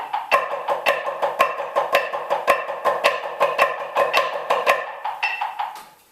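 A snare drum plays a quick, steady drumline pattern of flams and taps, crisp strokes repeating in an even rhythm before fading out.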